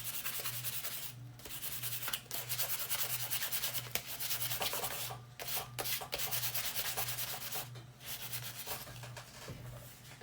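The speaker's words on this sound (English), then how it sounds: "I'm going to sand them a little bit just to smooth them out a little bit more." Hand sanding of small wooden pieces, steady back-and-forth rubbing strokes in a continuous rhythm with a few brief pauses, close up with a low hum behind.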